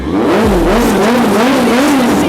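A 2018 Honda CBR650F motorcycle with a titanium exhaust revs loudly and steadily up close, its engine note rising and falling in a continuous wavering drone with no talk.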